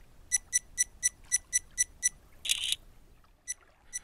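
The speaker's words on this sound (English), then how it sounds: "There is a burst mode that takes 3 pictures in a row." An action camera shutter firing in burst mode makes a rapid run of about eight evenly spaced sharp clicks. A brighter electronic chirp follows, then a couple of faint clicks, in a quiet room.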